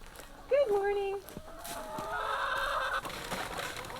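Hens clucking in the early morning in an enclosed run beside their hen house on an 1840 farm, with a brief harmonic call followed by steady close clucking and rustling, while a person talks intermittently over the birds.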